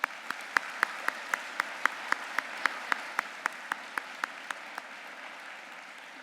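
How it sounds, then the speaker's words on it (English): Sparse audience applause at a university fall convocation: a steady run of about fifteen evenly spaced, fairly faint claps over soft room noise, thinning out toward the end. "let's have a round of applause."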